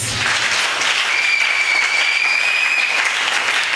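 A church congregation cheers and applauds loudly in one steady roar of clapping and voices, close and sustained without a break.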